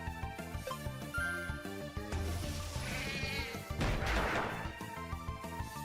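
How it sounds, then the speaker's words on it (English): A yarn cat monster from the Nexomon Extinction video game gives a bleating, sheep-like baa over busy in-game battle music, with a louder crash partway through. "every time I throw out Riv, it sounds like they're baaing like a sheep"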